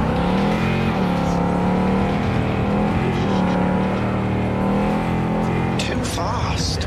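Car engine droning and revving steadily while driving in Cyberpunk 2077, loud and continuous, with game sounds layered over it and a brief clatter near the end.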